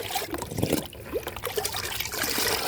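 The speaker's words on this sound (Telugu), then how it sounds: "మనకి ఎన్ని వాటర్ అవసరమో అన్ని పోసుకోవాలండి" Water trickles and splashes as it is poured into a fermented liquid plant fertilizer, a close, uneven pouring sound that runs throughout.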